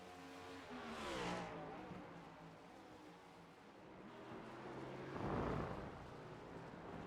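Race car engine in the iRacing sim at Road America, a sustained near drone that swells around the first second and again near the fifth as the car is pushed hard, with no talk.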